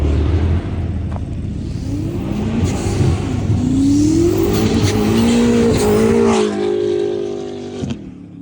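A car races past at speed on a snowy winter road, its engine rising in pitch as it approaches and sweeps by loudly, then fading away with no voices over it.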